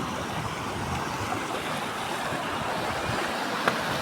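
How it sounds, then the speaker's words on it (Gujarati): Water rushing and gurgling past a spot near a bridge, heard as a steady, broad wash of flowing water with a windy edge, constant and fairly close throughout. "કેવું કળકળતું પાણી જાય"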